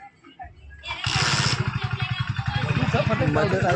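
A motorcycle engine starts up and settles into a steady, close running rumble with a pulsing rhythm, heading out on a long ride; people talk over it.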